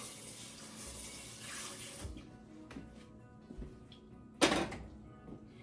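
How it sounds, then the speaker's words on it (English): Water runs and splashes as it is poured into a pot of cooking yuca, a steady faint pour for about two seconds, followed by quiet kitchen clatter and one sharp louder knock. "I want to put a little bit more water in here"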